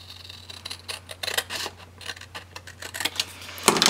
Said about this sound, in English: And I'm just going to cut it with my scissors.